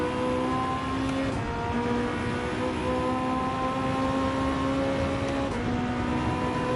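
A racing car engine in the driving game Gran Turismo 7 drones steadily at high revs, with gear shifts breaking the tone twice, loud and continuous with no talk.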